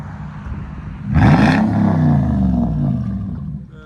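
A straight-piped 2004 Lexus GX 470 with its 4.7L V8 revs hard, jumping from a low idle burble into a loud, deep, raspy roar that holds and slowly falls back, close to the exhaust.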